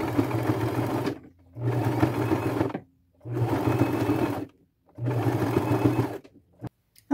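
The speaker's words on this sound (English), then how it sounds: "I'm going to sew that all the way around" A sewing machine stitches trim onto a velvet bag in four steady runs of a few seconds each, separated by short pauses, loud and close with no talking.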